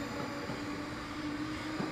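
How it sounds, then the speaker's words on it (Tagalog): A passing train rumbles and rattles nearby in a steady, loud wash of rail noise with a faint wheel squeal, heard alone for a couple of seconds. "May train."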